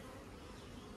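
Honeybees buzz at a beehive box, a dense, steady drone filling a brief moment at close range.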